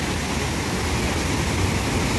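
A strong waterfall swollen by the rainy season roars in a dense, constant rush of water, loud and close, with no break or change throughout.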